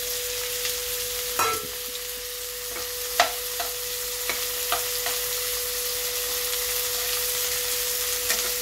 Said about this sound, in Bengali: এটাকেও আমি একটু ভালো করে নাড়াচাড়া করে নিচ্ছি